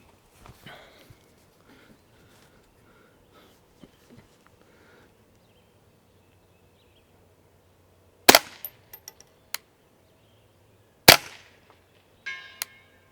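A YHM integrally suppressed Ruger 10/22 fires Winchester rounds at 200-yard steel: two sharp, subdued cracks several seconds apart, each followed by faint metallic pings, in an otherwise quiet outdoor setting.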